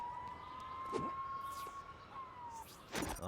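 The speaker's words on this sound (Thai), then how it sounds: "โอ้เสียงรถตำรวจเต็มเลย" A police car siren wails in the LEGO City Undercover video game as one sustained, even tone sounding at moderate distance, broken by a few short sharp effects with no talk.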